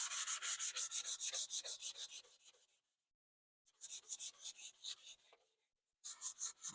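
Wooden stock of a Remington 341 Sportmaster rifle being scraped and sanded in close, rhythmic back-and-forth strokes, bursts of rasping separated by brief silent pauses, no talking.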